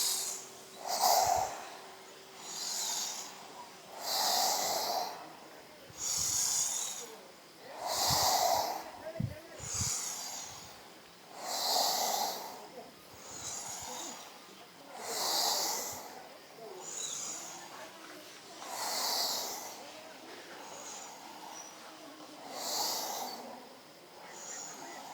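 Deep, rhythmic breaths during a kundalini yoga kriya, each inhale and exhale a broad airy rush, repeating roughly every two seconds in a steady cycle close to the ear, with faint nasal snort-like edges.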